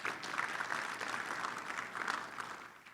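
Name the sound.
audience applause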